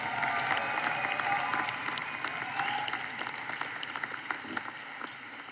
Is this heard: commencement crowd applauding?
yes